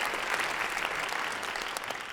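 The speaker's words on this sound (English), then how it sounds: "that's why I expected less of an applause here" Steady applause from a conference audience, a dense, even clatter of many hands at moderate volume with no talk over it.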